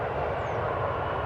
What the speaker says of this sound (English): So here's the flight from Sydney on Runway DFW.